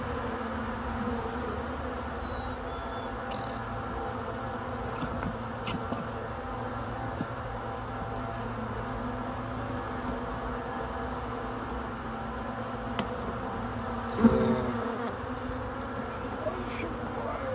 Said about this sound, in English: there's tons of bees in there